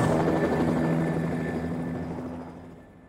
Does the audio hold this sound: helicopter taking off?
yes